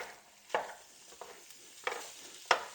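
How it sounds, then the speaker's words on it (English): Ground beef browning in a skillet and being broken up with a meat-chopping tool: a quiet, low sizzle with four separate scraping strokes spaced apart, no talking. "ground beef in the skillet. get it started browning. I'm going to break it up here."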